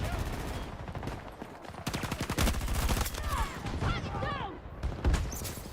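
Rapid gunfire bursts in Battlefield 2042 on the Haven map, crackling in repeated volleys with game effects, while a voice talks over much of the shooting.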